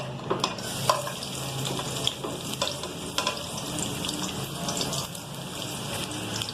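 Chopped onions sizzle and crackle steadily in a hot pan, cooking toward golden brown for a potato masala filling, with scattered sharp pops and a brief watery hiss running close up throughout.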